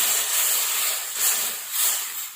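Hot water poured into a hot pan of tempered barnyard millet with roasted peanut powder gives a bright, loud sizzling hiss that swells in two or three surges.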